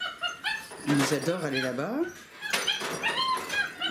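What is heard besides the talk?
puppies whining to get past the barrier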